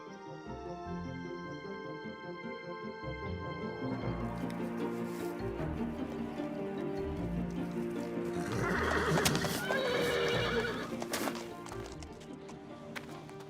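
The stallion Bucephalus in a cartoon about Alexander the Great gives a long, loud whinny, followed by clattering hooves and scuffling sounds that grow louder mid-clip, with no speech.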